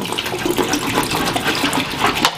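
A full quart of 3% hydrogen peroxide is poured into a plastic or glass container, making a continuous splashing, gurgling pour that runs steadily and close by with no talking.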